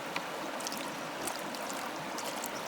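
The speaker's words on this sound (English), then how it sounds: "I can drain off the water" Water drains from a bucket of gold-sluicing concentrates into a gold pan, making a soft, continuous trickle and gurgle, faint and close by, with no voices.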